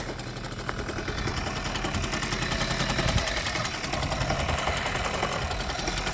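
A Stella 143 engine idles steadily at a lowered idle speed, a continuous low mechanical rumble with fine rapid ticking, fairly quiet and alone without talk.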